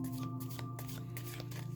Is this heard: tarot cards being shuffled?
yes